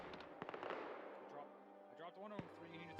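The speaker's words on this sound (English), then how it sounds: "I can vaguely hear the gunfire from that angle." Distant gunfire from a snowy winter battle in the video game Arma 3: a few scattered, quiet sharp cracks, with radio-style voices speaking over them.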